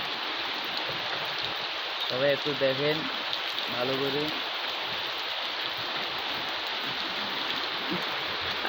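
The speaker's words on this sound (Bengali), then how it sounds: "আজ কয়েকদিন ধরে বৃষ্টি হইতে আছে।" Heavy rain that has fallen for several days pours steadily around a flooded house, a dense, unbroken hiss running through the whole clip while someone speaks briefly over it.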